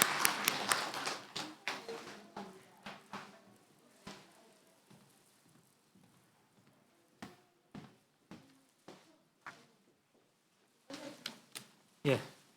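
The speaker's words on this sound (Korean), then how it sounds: "우리 박수하겠습니다" A small church congregation at a Sunday service claps, with a quick flurry of claps at first that thins into scattered single claps and then a short final burst.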